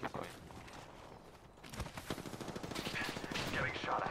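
Faint rapid gunfire rattles in a video game firefight, a quick run of shots building toward the end of the moment, low in level with game ambience around it.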